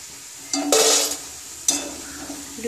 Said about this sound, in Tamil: இப்படி போடும்போது சத்தம் வரணும், அப்போதான் கரகரப்பாக நல்லா இருக்கும் பக்கோடா